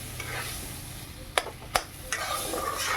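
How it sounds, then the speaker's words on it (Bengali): Raw banana curry being stirred in a pan with salt, turmeric and a little sugar: a continuous sizzle with a few sharp scrapes and taps of the spoon against the pan. "লবণ, সামান্য চিনি দিয়ে আবারও ভালো করে নেড়েচেড়ে দিচ্ছি।"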